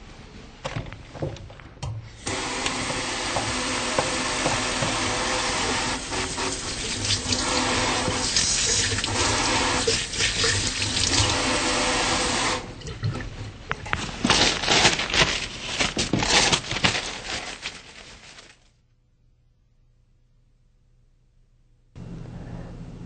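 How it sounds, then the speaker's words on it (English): Hands being washed under a running sink tap before a neurological examination, a steady close rush of water for about eighteen seconds, ending abruptly before a brief quiet stretch. "I'm going to take a minute to wash my hands."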